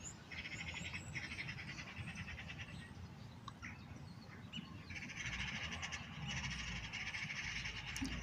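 Small birds chirp and call steadily on a snowy morning in Ankara, Turkey, over a constant outdoor hiss, with the twittering growing denser toward the end.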